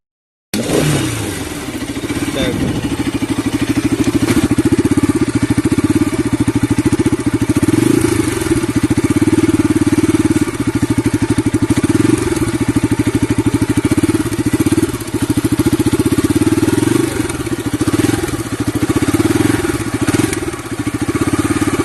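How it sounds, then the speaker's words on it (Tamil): A 2020 Bajaj Pulsar RS 200 BS6 motorcycle engine starts and then runs steadily at close range for about twenty seconds, with a loud, continuous mid-pitched drone and slight fluctuations in revs. "இந்த பைக் சவுண்ட் வந்து டியூக் சவுண்ட் மாதிரியே இருக்குது."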